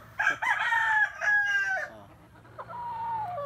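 A Kanawayon rooster crows twice in quick succession, near and fairly loud, each call a rising then falling cock-a-doodle-doo with clucking between, followed by a fainter, longer crow.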